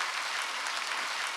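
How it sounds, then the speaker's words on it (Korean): Steady applause from a church congregation during a Sunday worship sermon, dense clapping sustained evenly throughout with no break. "박수 치려면 치고 말려면 말고"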